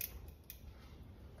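A quick snip while cutting vinyl wrap to make a relief cut during a chrome-delete grille wrap on a VW Passat, faint and close with a couple of short clicks.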